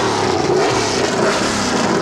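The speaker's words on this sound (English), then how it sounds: "He stopped and revved the engine so that he would drown out everything we were saying." A brand-new NASCAR Winston Cup race car engine revs loudly and close by at the Indianapolis Motor Speedway, a sustained high-pitched roar that swells slightly and holds throughout, with no talk.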